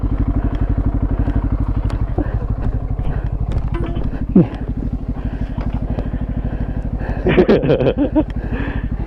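A motorcycle engine idles steadily with a rapid, even throb, close by, while people talk over it now and then.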